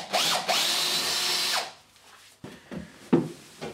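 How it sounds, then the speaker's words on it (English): A power drill bores a fixing hole for a radiator bracket in a stud wall, whirring loudly and close for over a second, then winding down, followed by scattered knocks and handling clatter. "And then I'm going to drill the second fixing hole."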